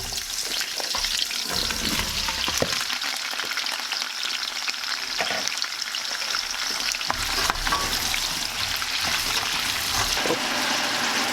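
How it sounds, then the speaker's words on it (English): Vegetables sauté in hot oil inside a stock pot, a continuous close frying hiss with scattered crackles and occasional scraping stirs, steady and fairly loud throughout with no talk. "The vegetables have been sauteing for probably 4 or 5 minutes now"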